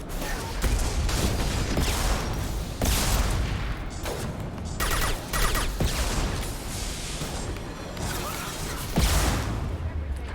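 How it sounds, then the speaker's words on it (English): Sniper rifle fire and battle noise in the Mass Effect video game, with repeated sharp shots and blasts over a dense, continuous combat din, while a voice talks in places. "Garrus actually landed a hit with his sniper rifle"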